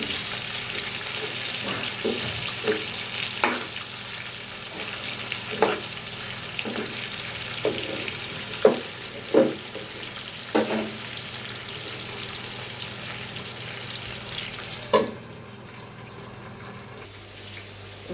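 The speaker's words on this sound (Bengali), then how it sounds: "আস্তে আস্তে হয়ে যাচ্ছে আমার চিকেন গ্রিল পারফেক্টলি" Chicken grilling in a covered pan, a steady close sizzle and frying hiss with scattered sharp clicks and clatters as the pieces are turned, the sizzle dropping off near the end.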